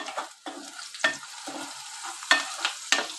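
Half a kilo of prawns, coated in turmeric and salt, fry in a pan while a utensil stirs them in repeated scraping strokes over a soft, close sizzle, with no voices.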